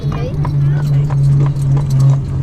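Horse hooves clip-clopping on pavement while pulling an Amish buggy in Lancaster County, Pennsylvania, a steady rhythmic trot close by, with a steady hum and people talking over it.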